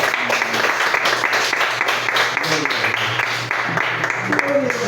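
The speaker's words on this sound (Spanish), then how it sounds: "Un aplauso al Señor de esta mañana." A church congregation at a Sunday morning Spanish-language service on Colombia's north coast claps together in a steady, dense burst, with voices calling out over and under the applause throughout.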